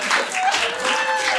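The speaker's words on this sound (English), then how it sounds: "What a ridiculous applause break." A stand-up comedy audience breaks into applause mid-set, a short burst of clapping and whooping that fills the room evenly with no pause.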